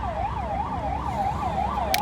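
An ambulance siren wails steadily in a rising and falling pattern at an accident scene involving a Volvo XC60 on a busy road, fairly close and loud over the hum of traffic, with no talk.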